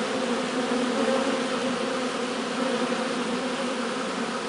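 Honeybees swarm in front of their hive on sunny midday orientation flights, a thick, continuous buzzing drone from many insects at once, steady and close, with no voices.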